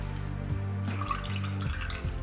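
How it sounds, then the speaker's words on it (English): Almond-milk buttermilk is poured into a bowl, making a soft liquid trickle and splashes that rise midway. The pouring sounds sit under a steady low electrical hum, with no talking. "And then just pour it in."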